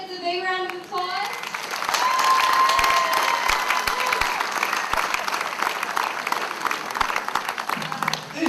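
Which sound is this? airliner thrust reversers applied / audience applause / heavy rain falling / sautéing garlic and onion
audience applause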